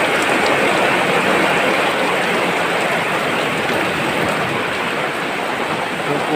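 Steady heavy rain pours over a countryside village, a dense continuous hiss of drops on surfaces filling the whole stretch at near, loud level with no talk over it.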